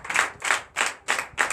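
Rhythmic clapping from a church congregation at a Sunday teaching service, five sharp rounds in a steady beat, fairly close and clear with no talking over it.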